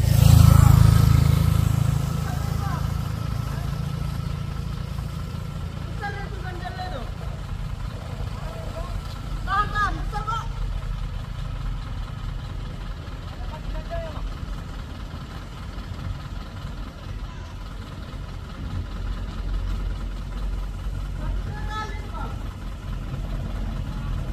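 An Isuzu LF truck engine labouring up a steep hill, a steady low diesel drone that swells at the start and then holds, heard close under ongoing conversation.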